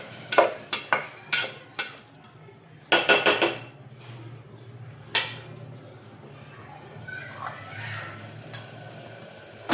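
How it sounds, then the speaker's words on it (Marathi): Tomato masala sautés in a pan with a splash of water, with a spoon scraping and clattering against the metal in quick bursts, then softer stirring and faint sizzling. "थोडंसं पाणी टाकून आपण आणखी परतून घेणार आहोत"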